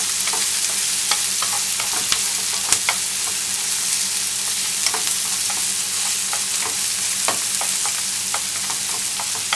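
Onions frying in a pan for a homemade European-style curry, a steady loud sizzle broken by scattered scraping taps and clicks as they are stirred, with no talking.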